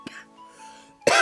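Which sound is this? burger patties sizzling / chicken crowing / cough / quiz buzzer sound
cough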